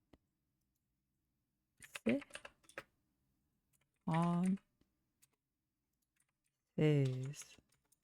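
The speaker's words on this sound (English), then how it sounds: "I don't know where my fingers are on my keyboard." Typing on a computer keyboard, a run of soft rapid clicks in short bursts between spoken words, close and moderately loud, with a voice talking over and around the keystrokes.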